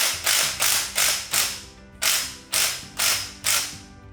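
A ratchet tightening a fitting on a Power Pro powered Jeep top assembly during top removal: about nine quick, close ratcheting bursts in a steady rhythm, each a sharp rasping click run, with no talk.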